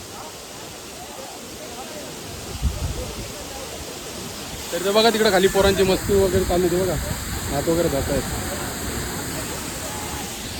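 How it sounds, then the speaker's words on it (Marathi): Steady broadband rush of the Dhangar waterfall in Badlapur, an 80-foot fall, heard from close by as a continuous roar, with voices talking over it midway through. "आम्ही फक्त मस्त इथं उभं राहून वॉटरफॉलची मजा घेतोय"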